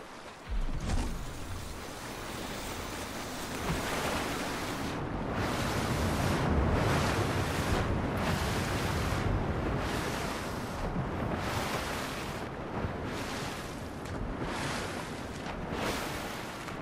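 Water and waves in the Fortnite video game after a character falls in, with broad rushing surf noise that swells and ebbs continuously and loudly, no talking.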